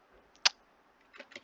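A few quiet, sparse computer keyboard key clicks while a quiz question is typed, one sharp tap followed by a short cluster of presses.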